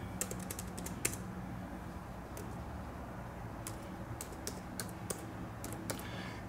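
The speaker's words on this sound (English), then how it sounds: "Hard to type with one hand" Typing on a computer keyboard with only one hand, giving sparse, irregular clicks at moderate distance over a steady low background hum, with no talking.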